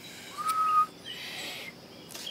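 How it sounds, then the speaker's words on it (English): A thin, wavering attempt at a whistle rises briefly, followed by breathy hissing air, faint and close. "I'm trying to whistle. I just can't."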